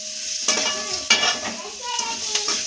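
Spices are tempered in hot oil in a pan for sambar, sizzling and popping close by with a few sharp bursts and some scraping and stirring against the pan.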